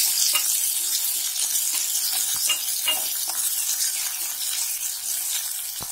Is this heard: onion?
yes